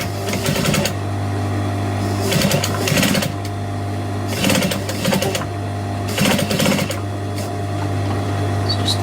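A sewing machine stitches fabric under a constant motor hum, breaking into repeated rapid clattering runs of stitching with brief pauses between them, close and clear.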